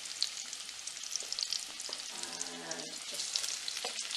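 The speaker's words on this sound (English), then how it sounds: "the oil is hot, yes, to the point that when I put the onions in, it's just to start frying straight away" Onions frying in hot oil sizzle steadily and close up, a bright continuous crackle with a few faint stirring scrapes underneath.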